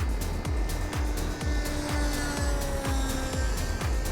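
A Hangar RC Wasp radio-controlled plane in flight gives a steady loud whining engine buzz with a rhythmic pulsing flutter, heard close up from on board.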